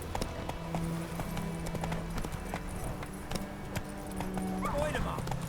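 Roach, Geralt's horse in The Witcher 3, trots along with a steady clip-clop of hooves under ambient game sound, and someone speaks briefly over it.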